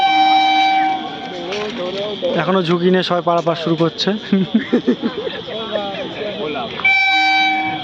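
A night train approaches a level crossing near Batkulla station and sounds long, steady horn blasts at the start and again at the end, with someone talking loudly over the rail noise between them.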